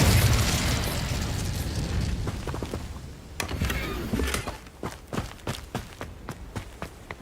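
Incendio fire spell cast in the Hogwarts Legacy video game: a loud whooshing burst of flame that fades, followed by a series of sharp pops and crackles spaced a moment apart.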